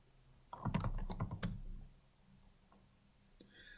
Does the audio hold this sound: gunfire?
no